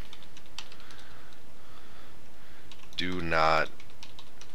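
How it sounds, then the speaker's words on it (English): Light keystrokes on a computer keyboard tap faintly and unevenly while a banner message is typed, followed by a brief spoken phrase. "So I'm just going to type warning"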